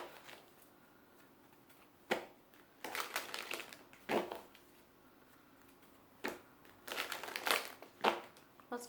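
Tarot cards being shuffled in quick papery bursts, a couple of short riffles followed by longer rustling runs with quiet pauses between, close and fairly soft.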